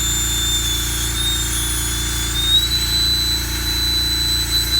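A rotary tool with a burr grinds into a duck egg shell, a steady high motor whine with a thin, wavering squeal from the cutting, continuous and close.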